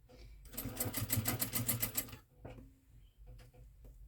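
A sewing machine runs in a quick, even burst of stitching through fabric for about a second and a half, then stops, leaving quieter handling clicks and faint background sounds.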